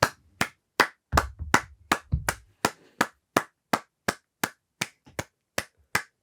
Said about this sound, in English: It's just you clapping?